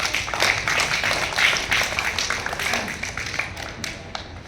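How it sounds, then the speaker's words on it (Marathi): Children clap for the winners of a game, a dense, steady patter of many hands that stays fairly close and even and then thins slightly toward the end, with no talking. "जिंकलेल्या मुलांसाठी टाळ्या वाजवा"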